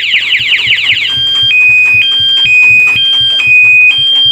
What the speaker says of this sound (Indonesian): Bahkan si modul alarm speakernya itu semakin keras, ya, semakin keras bersuara.